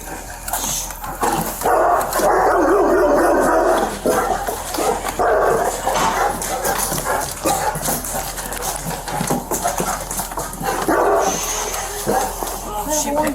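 A dog barks and yips at a nighttime scene during a police call, sharp bursts mixed with voices and other commotion nearby.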